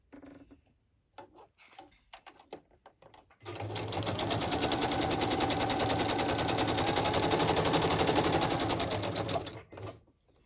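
Sewing machine running a straight stitch through plastic packaging for a crafted envelope, a steady close mechanical whir lasting about six seconds after a few brief handling sounds.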